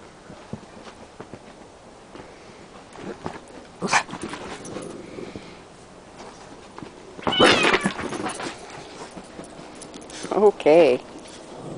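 A cat meows several times in a backyard setting, sharp short cries rising out of quieter household noise, with someone speaking at intervals.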